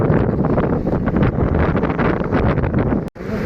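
A strong storm gust buffets a suspension footbridge in Erfelek, Sinop, roaring as loud, continuous wind rumble and microphone buffeting that stays steady for several seconds before a brief dropout near the end.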